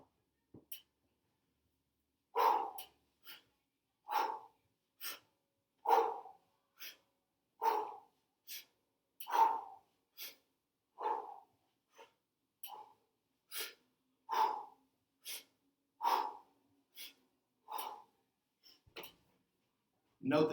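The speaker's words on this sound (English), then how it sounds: "Note the difference in breathing." Rhythmic exercise breathing in a sports style, with sharp, evenly paced breath bursts about every second, close and moderately loud, with no talking.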